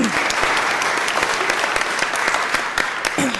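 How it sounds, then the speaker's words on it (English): People at a county Board of Supervisors meeting clap in a steady, fairly loud round of applause, with individual sharp claps standing out from the dense patter. "So you definitely deserve a round of applause for that."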